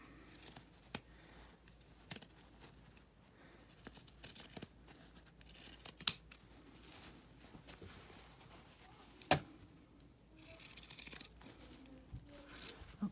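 Scissors trimming fabric for a sewn bowl cozy, a quiet series of irregular crisp snips spaced a second or two apart, with faint rustling of cloth between cuts and no talking.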